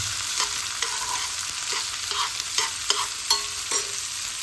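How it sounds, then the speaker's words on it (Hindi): Chopped onions fry with cumin seeds in a pan while being mixed. A steady hiss of frying runs under repeated spoon scrapes and light taps against the pan, close and alone. "ऑनियन डालने के बाद अब हम इसको अच्छी तरह से मिक्स कर लेंगे।"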